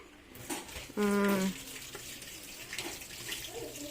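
Tap water runs at a kitchen sink while dishes are rinsed, a soft steady wash of water with a brief louder gush and faint clatter, no clear talk.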